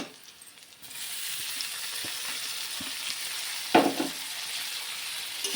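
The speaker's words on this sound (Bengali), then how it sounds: "টমেটোটাকে ভালো করে ভেজে নেব।" Tomatoes hit hot spiced oil for dal tarka with a sudden sizzle that settles into steady frying, a single clatter of a spoon against the pan partway through.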